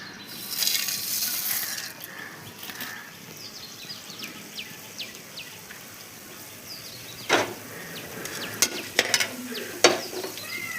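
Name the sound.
roasting spices and dried red chillies in oil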